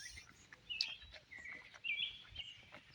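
A robin sings outdoors near a field with goal posts, a few faint, thin chirping phrases over quiet background noise.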